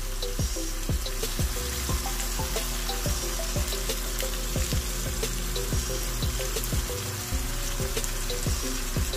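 Chop suey vegetables fry in a pan with oyster sauce, a steady close sizzle broken by regular clicking taps of stirring, with no one speaking.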